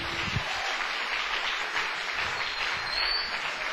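A church congregation applauds during a Portuguese-language sermon: dense, steady clapping from a large crowd that fills the whole stretch at an even level, with no voices rising above it.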